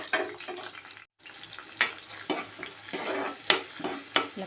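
Sliced onion fries in a few spoons of hot oil and is stirred, giving a quiet crackling sizzle with repeated close scraping and clicking strokes and one brief dropout. No speech.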